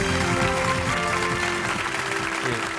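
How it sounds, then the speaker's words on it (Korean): A forum hall audience applauds to welcome a professor to the stage, a steady broadband clatter mixed with prominent tonal music playing over the room. "큰 박수로 맞아주시기 바랍니다."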